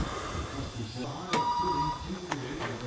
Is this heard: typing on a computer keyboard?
no